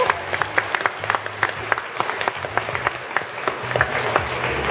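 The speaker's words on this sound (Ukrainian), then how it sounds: "Давайте привітаємо вас оплесками." A small audience at a health promotion event in an arena claps in sparse, distinct bursts, individual hand claps standing out sharply at close range, with a faint background hum and no speech.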